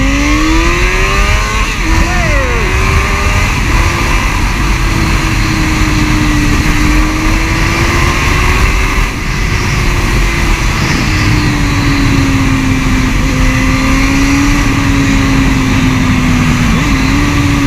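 A Suzuki GSR 600 motorcycle engine runs loud and close on the road, its pitch climbing and wavering through a long steady acceleration with a continuous droning roar.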